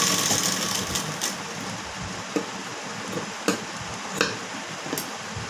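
A sewing machine tacks down the folded hook strip on a blouse front, running with a steady mechanical whir and occasional sharp clicks, close and fairly loud.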